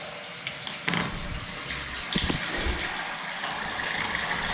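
Toilet cistern filling from a cold water feed during a bathroom fit-out, a continuous hissing, rushing water flow with small knocks and clunks, fairly close and steady throughout.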